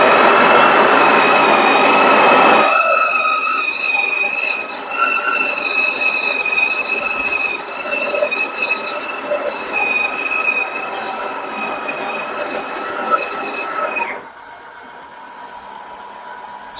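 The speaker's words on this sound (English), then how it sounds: "So the grinder has dispensed, and then the other sound that you heard at the end is it distributes the coffee grinds, and then it tamps it." Breville Oracle Touch espresso machine grinding coffee, then distributing and tamping the grounds, a loud steady whine with high tonal squeal that shifts partway through and drops to a quieter hum near the end.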